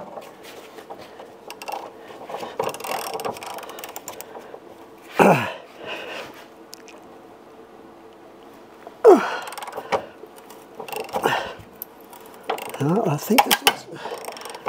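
Ratchet wrench clicks on a rear suspension bolt of a Nova, intermittent bursts of metallic ratcheting and sharp cracks as a bolt snaps, close and moderately loud in a quiet garage.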